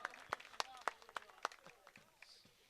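Audience at a Saraiki poetry mushaira clapping, a scattered run of sharp, distinct hand claps that thin out and fade, quiet and somewhat distant in a large gathering.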